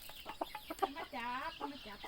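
Chickens clucking inside a coop, with close, loud, repeated clucks and a drawn-out warbling call in the middle, over faint background noise.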